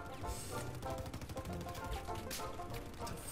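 Rapid bursts of gunfire in a Battlefield 4 match, crackling shots fired toward the player, continuous and fairly close, with no talk over it.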